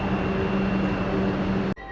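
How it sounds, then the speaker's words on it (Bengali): A Vande Bharat Express train pulling out of NJP station, its steady broadband rumble and hum loud and continuous, broken by a short sharp thud near the end. "ট্রেন ছেড়ে দিয়েছে এনজিবি থেকে একদম এক্স্যাক্ট 2:53-তে"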